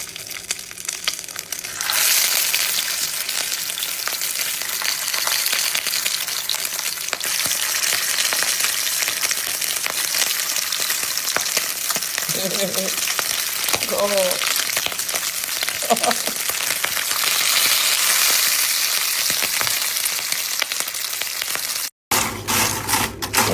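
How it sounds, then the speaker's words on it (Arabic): Meat for Egyptian fatteh fries in a pan with a loud, steady crackling sizzle that runs nearly throughout, broken by occasional stirring clatter, and someone speaks briefly over the frying. "نحمر اللحمة سيدي"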